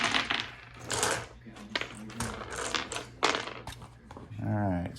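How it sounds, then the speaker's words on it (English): Dice clatter and click against a tabletop dice tray in quick bursts of sharp rattles, close and fairly loud, with someone speaking between the rattles. "Let me move my dice over here."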